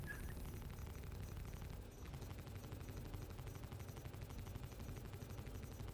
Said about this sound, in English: Got our 4 guns, alternating.